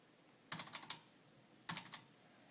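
Two short bursts of typing on a computer keyboard, each a quick run of three or four crisp, close keystrokes, separated by a brief pause over quiet background.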